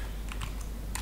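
A few quick keystrokes on a computer keyboard as a MikroTik router command is entered, soft clicks spaced irregularly over a faint steady hum.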